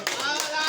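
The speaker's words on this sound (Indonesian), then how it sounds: "Tepuk tangan." A short burst of clapping from a group of hands, dense and steady, with voices mixed in underneath.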